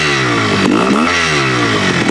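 A Yamaha TY 250 classic trials motorcycle being ridden close by: a loud, steady engine note that swells and dips as the throttle opens, with light mechanical clatter throughout.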